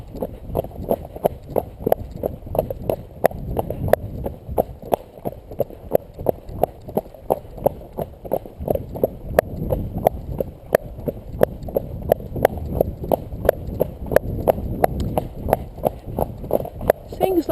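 A horse walks on a forest track with a rider, its hooves striking in a steady, close clip-clop rhythm throughout while the rider talks over the steps.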